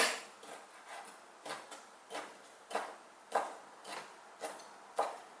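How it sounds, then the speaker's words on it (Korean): Soft, steady knife taps on a cutting board as shrimp is chopped, about a dozen quick chops in an even rhythm, close but quiet, with no talking. "자, 새우 썰어볼게요."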